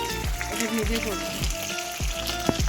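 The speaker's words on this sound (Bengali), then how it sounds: "যে মাংসটা ম্যাগনেট করে রেখেছিলাম সেই মাংসটা আমি এখন ভেজে নিচ্ছি" Marinated meat frying in a generous amount of oil in a pan, a continuous crackling sizzle with repeated low thumps and clinks as pieces are moved and stirred.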